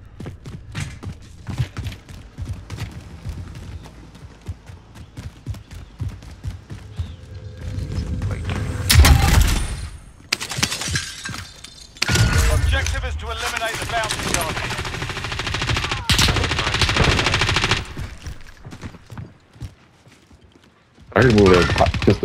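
Bursts of gunfire from a first-person shooter video game, several loud volleys at irregular intervals, with players talking over the shooting.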